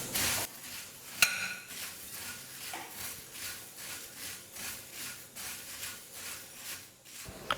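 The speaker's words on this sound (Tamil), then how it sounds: "ஸ்டவ்வை வந்து மீடியம் ஃப்ளேமில் வச்சுக்கிட்டு ஒரு 2-3 நிமிஷத்துக்கு நல்லா பொரியை வறுத்துக்கலாம்." Puffed rice (pori) is dry-roasted in a pan over a medium flame, the spoon scraping and stirring it in soft, even strokes roughly twice a second, faint and close, with a sharp tap early on and no talking.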